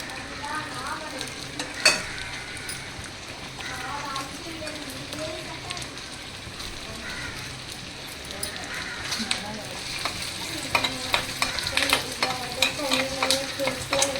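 Garlic and curry leaves fry in hot oil in a pan, giving a steady sizzle throughout with occasional sharp stirring knocks, growing busier and louder toward the end, over faint tonal background sounds.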